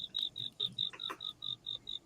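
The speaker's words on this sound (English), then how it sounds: "it's crickets." Cricket chirping at night, a steady, regular series of high, thin pulses repeating about every quarter second, moderately close, with faint rustling underneath and no one talking.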